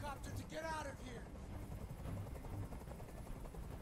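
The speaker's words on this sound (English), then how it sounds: "I can't stand that noise anymore. Tell that helicopter to get out of here." A helicopter in Detroit: Become Human, a low rumbling rotor drone that holds steady throughout, heard under a short burst of speech at the start.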